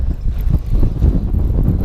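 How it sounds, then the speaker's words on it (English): Strong wind buffeting the microphone beside a lake during a fishing outing, a continuous low roaring rumble with gusty swells and no talking. "It is so windy."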